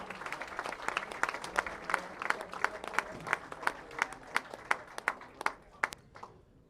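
At a youth bowling finals ceremony, a crowd applauds the U15 Developmental Team USA. Scattered clapping runs throughout, with sharp, distinct claps rising clearly above a softer wash of applause before it thins out at the end.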